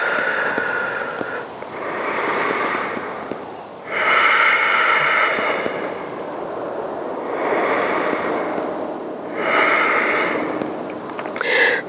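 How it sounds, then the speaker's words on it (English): Slow, deep breaths during a yoga stretch come close and audible, with long airy inhales and exhales repeating in a steady cycle. "Hold for a few deep cleansing breaths"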